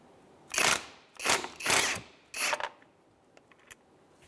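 A ratchet works a 15mm pulley wheel bolt loose on a Honda Element, four rasping bursts of clicking at a steady pace, close up, followed by a few faint ticks.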